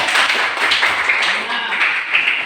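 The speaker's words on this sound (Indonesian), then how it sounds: "Oke, tepuk tangan dulu." A room of schoolchildren or students claps together in a continuous, dense patter of applause during a school classroom presentation about a garden program, with voices mixed into the clapping.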